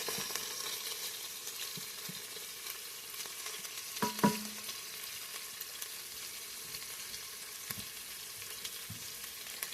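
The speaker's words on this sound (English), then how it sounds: "Got it on saute mode because the hamburger was frozen." Frozen hamburger meat sautés in a pot on saute mode. A soft, even sizzle runs throughout, broken by a couple of utensil knocks and stirs around the middle.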